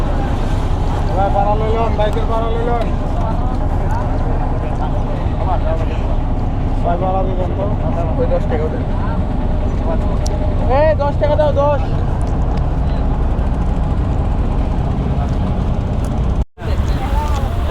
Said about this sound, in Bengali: ওকে গাইস আমরা কিন্তু এখন ফেরিঘাট পার হচ্ছি